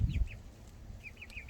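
Hens and roosters cluck in short, soft bursts over a low farmyard rumble, with one thump near the start and a run of quick clucks toward the end.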